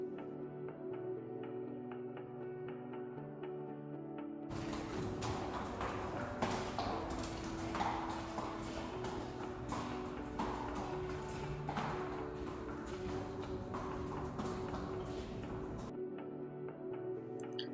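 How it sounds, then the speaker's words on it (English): Horses walk down a barn aisle, their hooves giving faint clip-clop knocks inside a broad swell of rustling and clattering noise that rises for most of the stretch, with no talk. "when the horses come in, they will walk down the barn aisle and turn right"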